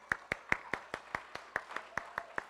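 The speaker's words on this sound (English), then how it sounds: "Let's give them a round of applause" A few people at a school honor roll assembly clap steadily, giving about a dozen sharp, evenly spaced claps in a quiet room, nearby and moderately loud.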